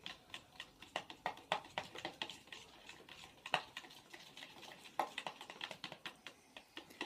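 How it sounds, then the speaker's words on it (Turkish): Slime glue being stirred by hand makes a quick run of soft, sticky clicks and taps, close and quiet, ticking irregularly in short bursts the whole time with no voices. "Onları biraz karıştırıyorum."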